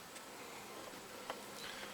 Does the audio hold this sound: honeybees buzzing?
yes